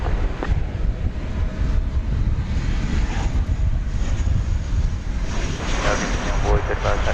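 Airliner taking off from runway 18 left, a steady loud engine roar mixed with wind buffeting on the microphone throughout.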